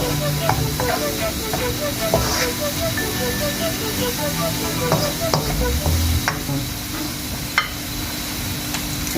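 Onions frying in oil in a pan for daalcha, before mutton goes in: a steady, close hiss and sizzle throughout, with scattered small pops and the occasional scrape of stirring.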